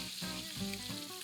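Meatballs frying in hot oil in a frying pan, a steady close sizzle and crackle with small popping bursts across a brief moment, no talking.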